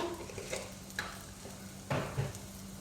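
Spices are stirred into pumpkin leaves frying in a pan for a tempering, a soft sizzle running under several scraping stirs and clinks of the spoon against the pan, with no talking.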